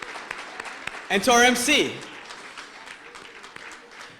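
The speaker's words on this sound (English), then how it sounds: "Let's give a round of applause to the chamber." Audience at a chamber of commerce gala clapping in the background, moderate and scattered, while someone speaks briefly into a microphone over it.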